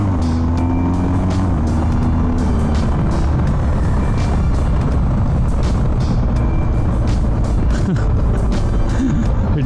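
A BMW R 1250 GS motorcycle accelerates hard through quick-shifted gear changes, its engine a loud, dense, continuous roar with rapid rising pitch sweeps, heard close up over heavy wind rush.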